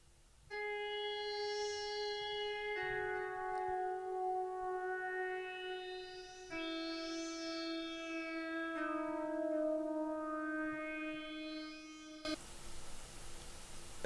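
A glassy FX synth pad from Xenology, for the intro of an 80s vintage-style sample, holds sustained shimmering chords that shift every few seconds with sweeping overtones, ending in a sudden burst of noise, alone with no talking.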